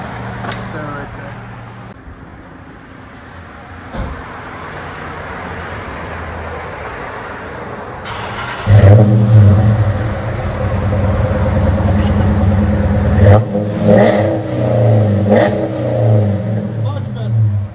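Dodge Challenger R/T with a 5.7L HEMI and Flowmaster 40 mufflers with an X pipe, its engine rumbling at idle before rising into loud, throaty revs in several bursts up close.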